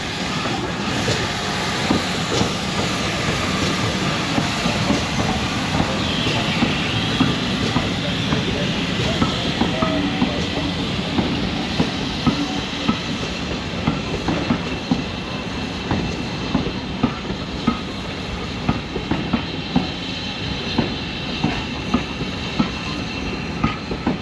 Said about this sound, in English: as Whitwick Hall arrives with that second train of the day